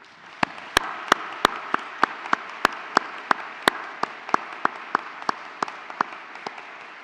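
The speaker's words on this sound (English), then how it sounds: "And if you could all join me in another round of applause." At a university graduation ceremony, a hall audience claps for academic and professional staff, a soft continuous patter punctuated by crisp, regular nearby claps.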